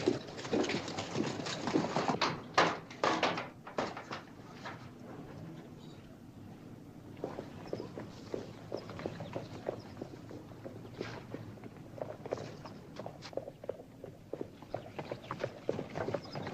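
Horses walking in a western film scene, hooves clip-clopping in a loose, uneven rhythm at moderate distance, busier at the start and then continuing steadily.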